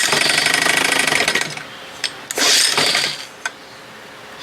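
A 1975 Johnson 4 hp outboard motor runs with a loud, rapid rattling buzz for about a second and a half, then cuts to sputtering bursts and short stuttering revs close by.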